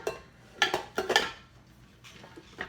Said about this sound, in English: I'm going to put the mixing bowl on it